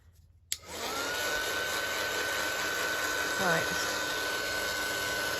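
A hair dryer clicks on and blows steadily over wet paint in a painted book, a close, loud, constant whine and rush, with a brief spoken word near the start.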